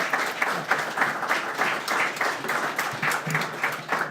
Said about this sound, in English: Let's have a big round of applause for these 2 excellent candidates.